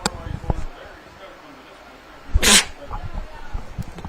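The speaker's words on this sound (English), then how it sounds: "excuse me as I had to sneeze there" A baseball commentator sneezes once, sharp and loud, during a state championship broadcast, a single burst between quiet stretches with light background murmur.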